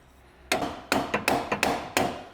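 Six sharp hammer blows, each ringing briefly, tap a wishbone bushing into place on a Land Rover Freelander, close and loud with short uneven gaps between strikes.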